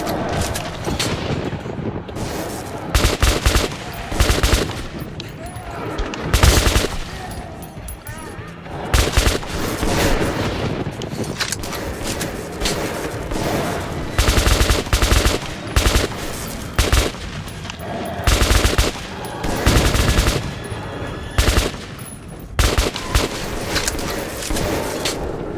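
Pellet gun firing in Metro 2033: repeated loud bursts of shots in clusters with short gaps, mixed with other gunfire and action noise throughout.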